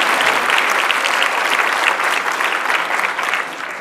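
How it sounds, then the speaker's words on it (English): A large audience at an awards luncheon gives a sustained, dense round of applause, loud and steady throughout before easing slightly at the very end. "Theodora, round of applause, please."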